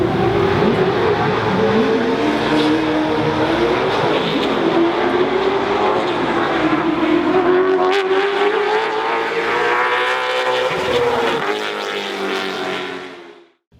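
Late model stock cars racing at a short-track speedway, a loud sustained engine drone that rises and falls as the pack circles, with revving and tire noise, fading out at the end.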